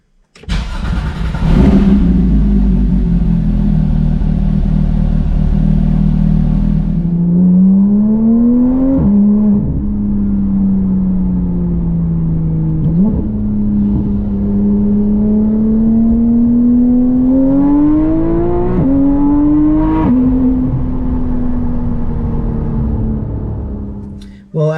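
A Porsche GT3 engine starts and settles into a steady exhaust drone while driving, rising and dipping with gear changes and throttle blips, loud and close throughout.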